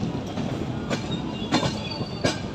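A train running into Vijayawada junction rumbles steadily, with three distinct clacks of wheels over rail joints spaced at an even rhythm, heard close and without talk.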